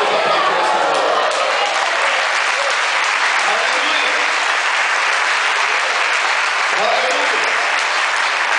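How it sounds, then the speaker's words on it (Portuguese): A church congregation applauding loudly and steadily, dense sustained clapping from a large crowd with scattered voices mixed in. "Vamos aplaudir essa palavra"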